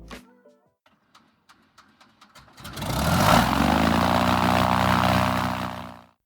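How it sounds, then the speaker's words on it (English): A single-engine propeller aircraft of the Civil Air Patrol cranks with a series of sharp starter clicks, then its engine catches and roars up to a loud, steady run that fades slightly at the end. "That sound you're hearing isn't just any aircraft. It's part of the largest fleet of single-engine aircraft in the world."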